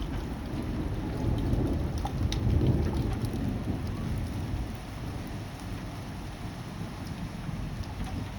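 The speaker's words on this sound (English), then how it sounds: "Cute thunder." Rolling thunder rumbles through a steady heavy rainstorm, the low growl swelling early and then fading under the constant hiss and patter of rain on surfaces, with no voices.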